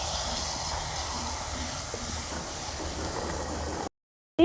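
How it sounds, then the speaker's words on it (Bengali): Jalebi fry in white oil in a wok, a steady close hiss and bubbling that holds evenly, then cuts out to silence near the end before a brief return, with no voices. "জিলিপিটা ভাজছি বন্ধুরা।"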